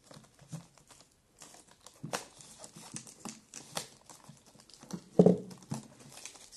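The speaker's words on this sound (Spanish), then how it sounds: "a abrir con estas, ayudarnos de estas tijeras." Scissors cut open a small cardboard multipurpose box, producing irregular crinkling snips and scrapes, quiet and close, with one louder crunch near the end.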